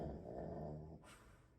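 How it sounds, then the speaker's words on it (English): A dog growls in low, snorting, pig-like grunts for about a second, then stops abruptly, leaving quiet background noise. "That was my dog. Don't know why she's making pig noises."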